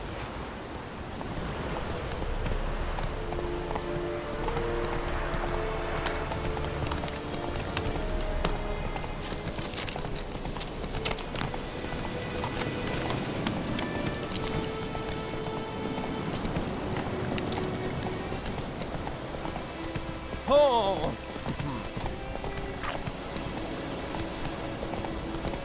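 Roach the horse galloping through rain in The Witcher, with a steady rhythmic clip-clop of hooves under constant rainfall, plus occasional brief game sounds.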